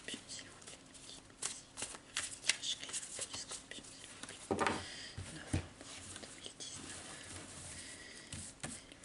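Tarot cards being shuffled by hand before a reading, a continuous soft riffling and flapping close by, with a few sharper snaps and a brief louder burst midway.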